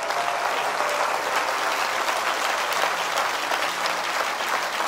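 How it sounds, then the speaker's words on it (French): A church congregation breaks into loud, sustained applause for Jesus, with many hands clapping together in a thick, even roar that fills the room from start to finish. "Est-ce qu'on peut acclamer pour Jésus?"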